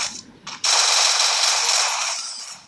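Rapid automatic gunfire in a shooting video game, a short burst and then a loud sustained stream of shots lasting about two seconds before tapering slightly.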